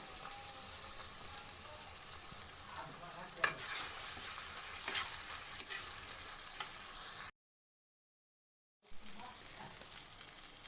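Ginger paste, turmeric, chili powder and fenugreek leaves sizzle in hot oil as they are stirred and sautéed in a pan, a steady close frying hiss with faint scraping that cuts off briefly before resuming.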